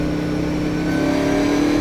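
A Corvette race car accelerates hard at an SVRA vintage race, its engine holding a steady, loud mid-pitched drone that rises slightly in pitch as it pulls through a corner, close and continuous with no talk.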